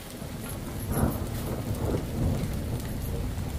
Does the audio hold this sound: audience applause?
no